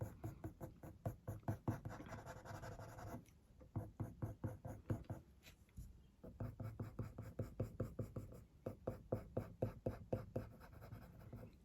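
Coloured pencil scratching across textured paper while shading fur on a French Bulldog drawing, a close, continuous run of quick back-and-forth strokes in steady rhythm, briefly pausing before resuming.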